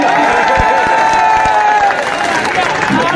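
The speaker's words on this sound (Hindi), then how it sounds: "जोरदार तालियां" Crowd applause at a political rally in Chhattisgarh, loud dense clapping mixed with cheering and crowd murmur, while an amplified voice carries on continuously over the top.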